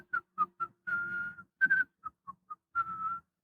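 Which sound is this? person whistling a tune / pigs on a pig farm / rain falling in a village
person whistling a tune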